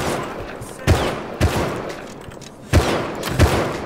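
Gunfire in the video game Rust: four sharp shots spaced in two pairs over a noisy background, loud and close.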